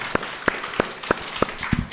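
An audience at a Buddhist monk's question-and-answer dharma talk claps in unison, six sharp, evenly spaced claps in a steady slow rhythm, fairly near, with no talk over them.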